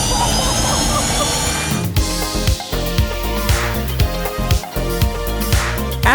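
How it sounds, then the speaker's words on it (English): Loud roaring fighter jet engines spool up steadily on start-up, a continuous rumbling whine with repeated low thumps and pulses, while a person speaks underneath. "en este momento estamos encendiendo los motores"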